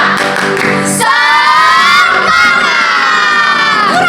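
A Sunday school group of children shouts together in a spirit cheer, a loud, continuous crowd of young voices rising in a drawn-out unison yell, close and dense with no separate claps standing out.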